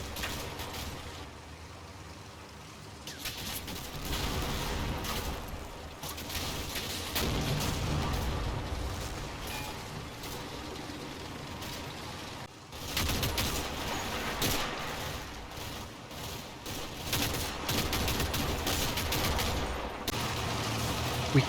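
Sustained gunfire pours from a factory in a Combat Mission battle, with dense overlapping shots and bursts of rifle and machine-gun fire, loud and continuous, briefly easing around the midpoint before resuming at full intensity.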